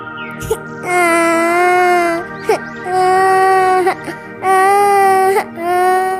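A small child wails in a dense forest in a Hindi horror cartoon, loud and close, with three long sustained crying bursts separated by short sobbing gasps.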